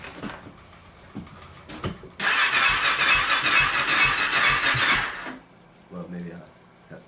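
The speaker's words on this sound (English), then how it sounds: "start the car." An LTZ 400 engine cranks and catches with a loud, steady roar for about three seconds before cutting out, followed by quieter handling noises and a brief low rumble.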